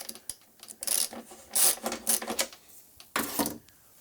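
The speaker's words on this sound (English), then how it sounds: "Loosen the nut on the wheel." A ratchet wrench clicks in short bursts while loosening the nut on a wheel during jack shaft belt and alignment work in a shop, several quick ratcheting runs close by with brief pauses between.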